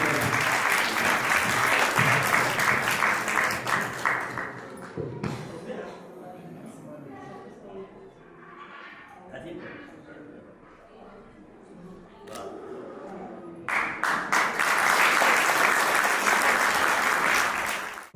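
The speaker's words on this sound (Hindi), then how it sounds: "आप सभी जोरदार ताली बजाते हैं" Loud audience applause to honour a guest at an Arya Samaj Mandir gathering, a strong burst of clapping that fades into softer scattered sounds and talk, then swells back to full applause.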